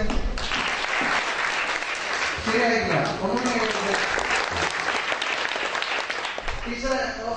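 A school audience of students claps at a palliative care fund donation programme, continuous crowd applause throughout, with a voice briefly speaking over it partway through.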